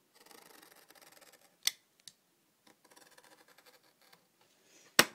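Scissors cutting wallet-making material in half, a few soft snips and rustles separated by quiet gaps, with two sharp, louder clicks of the blades.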